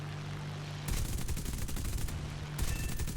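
Rapid bursts of aircraft machine-gun and cannon fire from a World War II XP-50 fighter in War Thunder, two loud sustained volleys with a brief gap, over steady engine drone.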